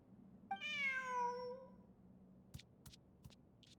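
A video game cat gives a single drawn-out, clear meow, followed by a few faint, sharp clicks against a quiet background.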